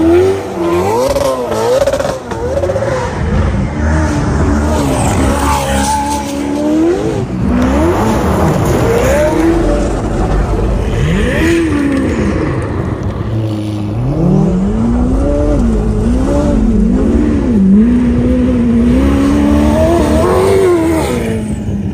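A Ferrari drives off with its engine revving hard, rising and falling gear sweeps and throttle blips, close and loud with tire noise, continuous for the whole stretch.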